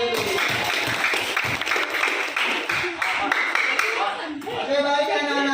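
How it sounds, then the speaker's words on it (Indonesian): A class of students claps hands together in a dense, continuous round of applause, with voices mixed in and a clearer voice rising near the end. "tepuk tangan dulu"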